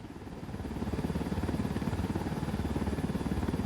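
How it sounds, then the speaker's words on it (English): Helicopter in a Bolivian open-world tactical shooter game, rotor thump fading in then holding a fast, steady chop, close and fairly loud, without voices. "Let's take your helicopter."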